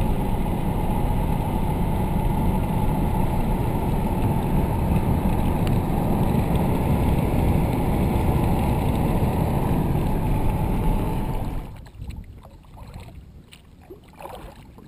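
A kayak paddled on Lake Monroe, with a dense, steady wash of water and wind noise for most of the stretch that drops sharply near the end to quieter, scattered splashes and drips.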